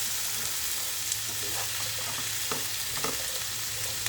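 Two medium carrots stir-frying in a pan for pancit bihon, a steady close sizzle with occasional scraping stirs and soft clicks of a utensil, no voices.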